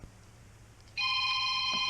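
A telephone bursts into ringing after a near-silent moment, a bright, loud electronic bell tone that starts abruptly and continues steadily to the end.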